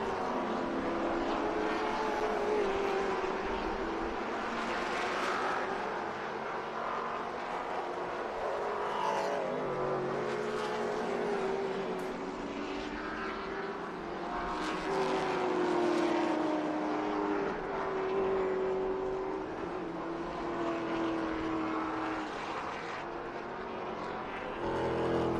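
Race cars circuit Barber Motorsports Park in Birmingham during a classic and muscle-car road race weekend, engines droning steadily with pitch sweeps as they pass, a continuous mid-distance roar with no talk.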